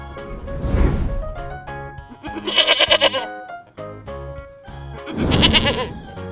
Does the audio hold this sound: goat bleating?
yes